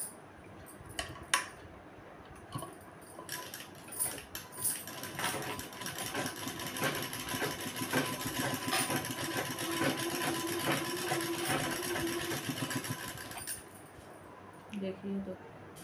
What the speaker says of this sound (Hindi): इस प्रकार ऊपर का सियन को भी सिल लेंगे।